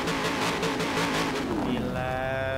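A Corvette ZR1 revs in the racing game Forza Horizon 4 played on a Logitech G29 wheel, a loud buzzing engine roar that climbs then settles into a steady higher tone, continuous and close.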